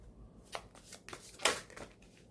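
Tarot cards being shuffled and drawn from the deck, with several quick riffling, sliding bursts and a louder flick near the middle, close and crisp in a quiet room, no talking.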